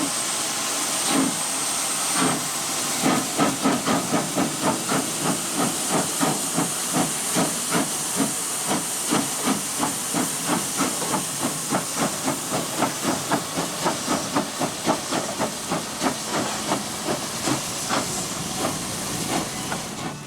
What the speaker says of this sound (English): Here's some chuffing to enjoy without my yapping.